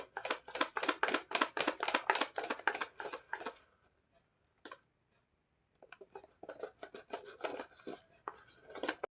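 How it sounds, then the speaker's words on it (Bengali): Batter for ripe banana fritters being beaten hard in a bowl, rapid rhythmic scraping strokes in two bursts separated by a short pause, close and fairly loud. "ভালো করে ফেটাতে হবে।"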